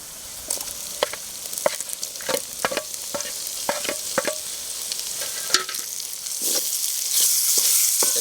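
Cut tomatoes added to onions frying in a pan for a spicy egg gravy, producing a close, steady sizzle with frequent scraping stirs and utensil knocks, the hiss swelling louder toward the end.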